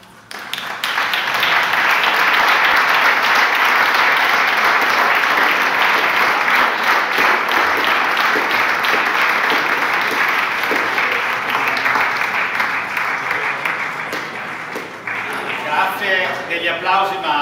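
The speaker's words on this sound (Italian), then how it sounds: "Gli applausi, ma sono veramente meritati per loro" Sustained audience applause after a choir performance, dense and steady for about fifteen seconds before thinning out, with voices rising near the end.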